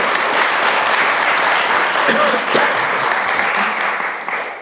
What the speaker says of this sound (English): So please do give another warm round of applause to Elaine Storkey.